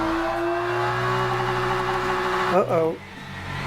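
A car engine in a VR sim racing game holds a steady, buzzing tone, then briefly dips and warbles as the revs drop near the end. A voice speaks briefly over it.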